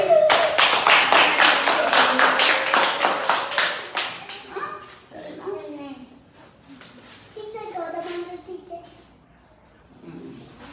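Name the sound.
children clapping in a classroom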